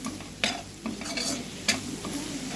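Chili powder and turmeric masala are sautéed in a pan for a crab pepper gravy: a soft, continuous sizzle broken by several sharp spatula scrapes and stirs, fairly close and moderately quiet.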